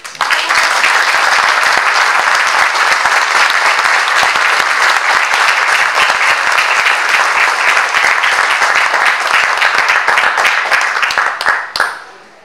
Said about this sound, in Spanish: Pediría yo un caluroso aplauso.